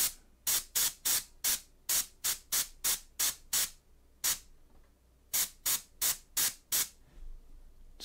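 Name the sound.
airbrush spraying black paint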